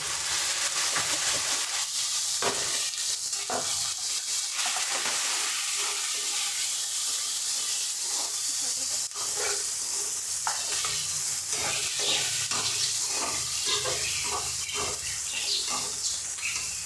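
Dry red chillies, garlic and small shallots frying in hot oil in a pan, giving a loud, steady crackling sizzle throughout with scattered sharper pops and occasional stirring scrapes.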